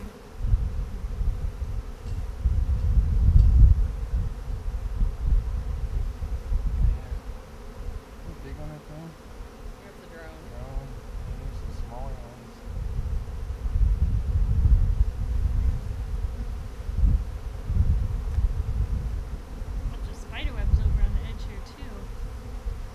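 Honeybees swarm during a hive transfer, a dense low buzzing that swells and fades as insects pass near, with some wind rustle over it.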